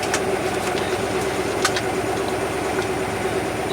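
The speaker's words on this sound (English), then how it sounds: "running through the gears here." Steady, smooth running of a 1964 Plymouth Barracuda engine as it works through the gears, a continuous close hum with a few faint light clicks and no voices.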